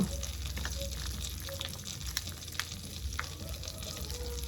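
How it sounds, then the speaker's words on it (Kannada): Butter and ghee sizzle steadily in a frying pan, a continuous close frying crackle with faint stirring clinks and no voices. "ಅವೇ ಬಣಲೆಗ್ ಚೂರ್ ಬೆಣ್ಣೆ ಚೂರ್ ತುಪ್ಪ ಗಟ್ಟಿ ಆತರು"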